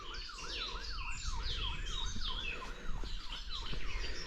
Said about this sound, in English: sound of a siren.